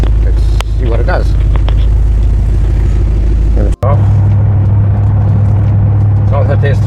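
A rebuilt BMW M6 on a test drive gives a loud, steady engine drone and road rumble throughout, with a brief sharp dropout near the middle and someone talking over it.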